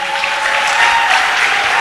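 A brief burst of loud, dense applause from an award ceremony audience clapping for the panelists, steady throughout the short stretch.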